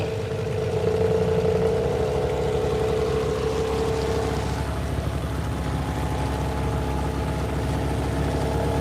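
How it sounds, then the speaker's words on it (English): A boat's outboard engine runs on a river, droning steadily and close with a clear tonal whine in the first half that fades as the revs settle into a continuous chugging hum. "I'll give it a few more revs and just see how far we comfortably go."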